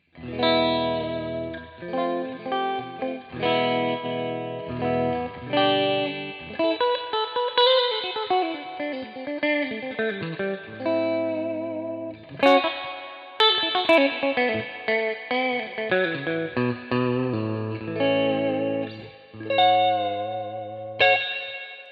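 A clean electric guitar played through a flat amp plays a flowing melody of picked single notes and chords, up close and alone, with a light shimmer of effects.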